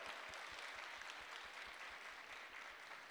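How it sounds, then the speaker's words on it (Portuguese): A crowd at a Brazilian children's catwalk fashion show claps continuously, a dense, even wash of applause heard from some distance without pause. "Uma salva de palmas para vocês, por favor!"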